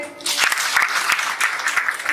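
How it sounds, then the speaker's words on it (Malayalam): An audience at a Christian speech gathering breaks into applause, a burst of many hands clapping at close-to-mid distance, with some rhythmic unison beats, lasting about two seconds after a brief quiet start. "നല്ല മനോഹരമായ ഒരു ക്ലാസ് എടുത്ത മോനോട് നല്ലൊരു ക്ലാപ്പ് കൊടുത്തേ"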